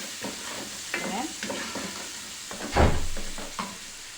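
Finely chopped onion sautéing in ghee in a pot, a steady close sizzle with scraping stirs and a louder burst of frying near the middle, with no voices.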